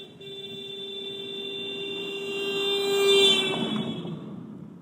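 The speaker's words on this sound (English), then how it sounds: "The honking of the horn sounded like this." A long, steady truck horn blast holds for several seconds, swelling louder toward the end before cutting off, with a low engine rumble beneath.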